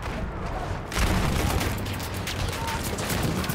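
Enemy machine gun fire in the World War I shooter Battlefield 1: dense, continuous crackling bursts that jump louder about a second in and keep rattling steadily to the end, with no talk.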